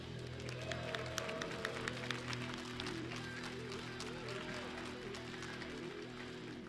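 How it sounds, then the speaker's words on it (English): Audience applause rises at a Dragon Ball Super Card Game World Championship final as the two finalists come on stage, a faint, distant patter of clapping with scattered sharper claps over a steady room hum. "Let's give them a round of applause, everyone."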